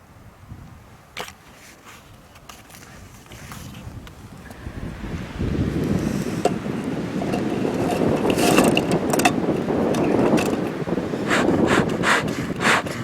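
Strong wind at a beehive apiary during a storm buffets the microphone, starting as a low rumble and growing into loud, steady gusting roar from about halfway through, with no talking.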